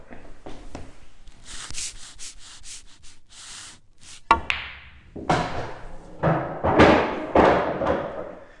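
A pool cue strikes balls on a pool table, with soft rubbing and chalking sounds before a sharp clack, then further clicks and thuds as the balls roll and collide, all close and fairly quiet.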